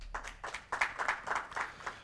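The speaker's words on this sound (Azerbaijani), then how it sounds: "Alqışlar" Light, scattered clapping from a small television talk-show audience as a guest is introduced: a handful of separate, fairly faint bursts of claps in an uneven rhythm.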